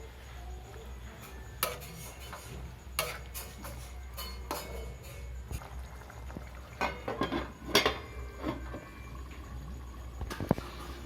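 Chicken for kosha is stirred in a pot with a utensil, giving scattered metallic scrapes and clinks near and fairly quiet, ending with a lid clatter.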